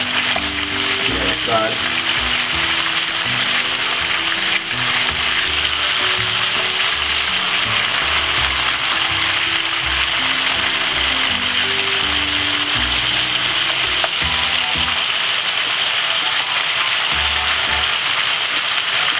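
Bacon sizzles and crackles steadily in a hot pan, a dense close frying hiss that runs unbroken throughout, with a voice speaking briefly over it.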